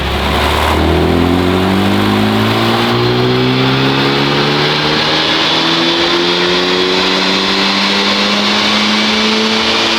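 A Honda Civic Type R FL5 engine on a dyno, revving in a steady full-throttle sweep from about 1,900 to 7,000 RPM, its pitch climbing continuously and loudly for the whole stretch with no talk over it.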